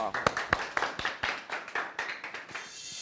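Audience claps for a band after their performance, a scattered round of distinct individual hand claps, fairly near and brief, with some voices mixed in.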